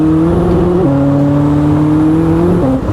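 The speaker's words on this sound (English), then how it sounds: "So I'm going to downshift on these paddles" A Koenigsegg Chimera, a manual Jesko blended with an Agera RS, holds a loud, steady, droning engine note heard from inside, its pitch stepping at two paddle gear changes.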